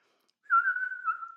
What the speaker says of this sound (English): I'll have a little whistle.